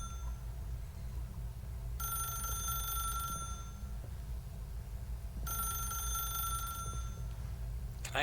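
A telephone rings in The Stanley Parable video game, sounding two bright electronic ring bursts of about a second and a half each, separated by a short pause, over a low steady background hum with no talking.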